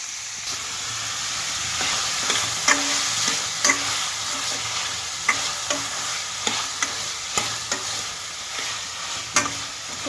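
Food frying in a pan on a home stove, a steady close sizzle and hiss with a ladle scraping and clinking against the pan in irregular taps throughout.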